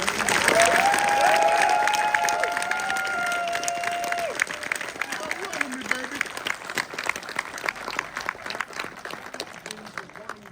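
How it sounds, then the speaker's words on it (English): An audience at a Dawn of the Dead (1978) screening at Monroeville Mall breaks into sustained applause, dense clapping with some cheering and voices, loud at first and thinning slightly toward the end. "And everybody, big hand of applause for Ken."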